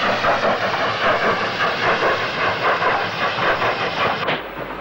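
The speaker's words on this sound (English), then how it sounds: "9470, which was a Shrewsbury-based engine in the 1950s, runs in before a sister engine arrives with empty stock" A Hawksworth pannier tank steam locomotive, No. 9470, runs into Paddington station in the 1960s with a loud, steady roar of hissing steam and rumbling wheels that cuts off abruptly near the end.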